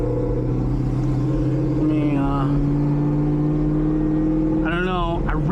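A supercharged LT4 V8 in a Chevrolet Camaro ZL1 pulls hard in first gear, a steady droning engine note with a rising whine, heard from inside the car while a person talks over it.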